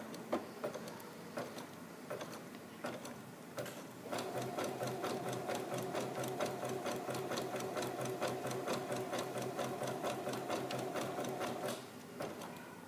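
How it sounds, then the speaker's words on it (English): A domestic sewing machine runs a zigzag stitch across fabric for a stitch sampler. It hums steadily with a fast, even ticking rhythm, picks up speed partway through and runs alone at close range. "Okay, then you'll just zigzag across the bottom for your stitch sampler."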